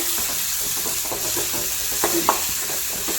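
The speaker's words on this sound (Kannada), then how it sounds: "ಹಸಿಮೆಣ್ಸಿನ್ಕಾಯಿನ ಪೇಸ್ಟ್ನ ಸ್ವಲ್ಪ ಜಜ್ಜಿ ತೊಗೊಂಡಿದ್ದೀನಿ ಮೆಣಸಿನಕಾಯಿನ" Green chili paste fries with a steady hiss in a pan while a utensil stirs it, giving soft scraping strokes and a couple of sharper clicks near the end, with no voices.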